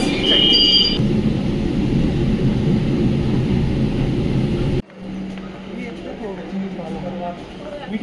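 An empty metro train in Kolkata rumbles along with a loud steady roar and a high whine at first, then the sound cuts sharply to a lower hum with a clear tone. People talk over it.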